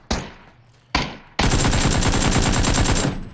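A suppressed SKS fires in PUBG: two single sharp shots, then a fast, steady string of rapid reports lasting about a second and a half before tailing off, loud and close.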